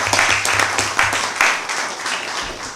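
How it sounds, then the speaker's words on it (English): An audience at a U.S.-Africa trade and investment roundtable claps for the panelists and moderator, a brief swell of many hands with uneven pulses, moderately loud. "applause."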